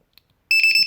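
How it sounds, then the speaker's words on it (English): A low-voltage alarm buzzer on a battery setup for a CX20 quadcopter power distribution board sounds a loud, shrill electronic beeping that starts suddenly after near silence and pulses rapidly to the end. "if you get low voltage on this battery, this guy will start beeping really loud"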